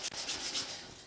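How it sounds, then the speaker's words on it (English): Hand sanding with 80 grit sandpaper on a 1950 Chevy truck door, a quick series of soft rhythmic scratchy rubbing strokes, close and fairly quiet, with no speech. "I'll make sure I scuff that up real good by hand"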